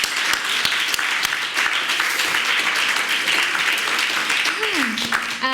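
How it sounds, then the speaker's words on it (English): An audience at a talk event on culture, climate and social justice gives a round of applause, dense and sustained clapping filling the room for several seconds. "Another round of applause."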